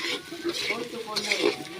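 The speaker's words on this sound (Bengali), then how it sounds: "কচি পাঁঠার মাংস রান্না করার আগে আমি আলুটা একটু ভেজে নিচ্ছি লাল লাল করে।" Potatoes fry in a pan before goat meat is cooked, a soft crackling sizzle with stirring scrapes throughout, close by and steady.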